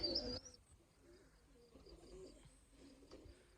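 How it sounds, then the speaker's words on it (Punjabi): Domestic pigeons, a dark cock and a pied hen, coo softly and steadily at close range, opening with a brief louder call and settling into low, repeated cooing with no one talking. "ਇਹ ਬਾਹਰ ਜੁੜੀ ਆ ਡੱਬਾ ਕਬੂਤਰ ਆ ਤੇ ਕਬੂਤਰੀ ਬੱਗੀ ਆ"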